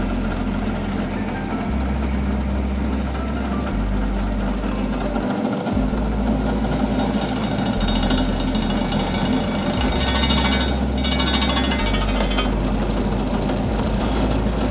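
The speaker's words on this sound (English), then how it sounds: "I've got a fairly fast feed rate. I've got a carbide cutter and it's just chomping through it like there's no tomorrow." Metal lathe with a carbide cutter at a fast feed rate, a loud steady motor drone with a low throbbing hum that shifts pitch in blocks as the cut proceeds, no talk.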